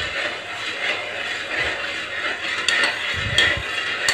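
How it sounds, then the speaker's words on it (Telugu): Orange halwa pulp thickened with cornflour being stirred in a pan over a low flame, with steady scraping and clinks of a spoon against the metal pan and a few louder knocks near the end, no talking. "సో ఇది కంటిన్యూస్గా ఇలా కలుపుతూ ఉండాలి"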